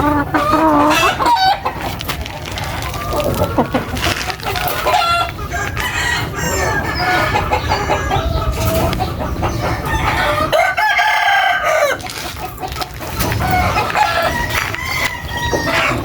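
Laying hens and a rooster on a backyard poultry farm after rain: steady busy clucking throughout, with a loud rooster crow rising near the middle, close and dense.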